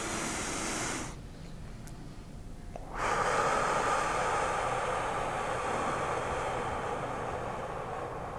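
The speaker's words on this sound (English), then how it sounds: "And please take a breath with me." A long, deep breath taken during a guided meditation, with a soft hiss that drops away, then a fuller, louder airy rush sustained for several seconds, close to the microphone.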